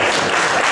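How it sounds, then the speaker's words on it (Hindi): Brief burst of audience applause at a poetry gathering during Sialkot's Iqbal Week forum, a dense, loud clatter of many hands that fills the whole short moment. "मार लो तालियां।"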